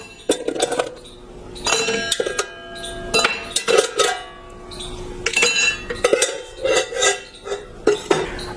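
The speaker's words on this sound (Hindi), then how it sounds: "एक 3 पीस कॉकटेल शेकर, उसमें आपको डालना होगा 3 से 4 क्यूब आइस" Ice cubes drop into a metal 3-piece cocktail shaker, ringing clinks and rattles in a string of close, bright metallic knocks, with no talking.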